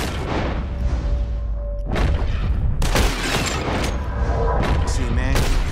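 Gunshots ring out in a Red Dead Redemption 2 bottle-shooting contest: a series of loud, sharp bangs spaced through the stretch, with glass shattering and a low rumbling game ambience underneath.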